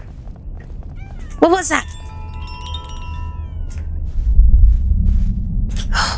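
Cats meow and yowl in a video game, one clear rising meow near the start followed by fainter cries, while someone talks over game sounds and background rumble.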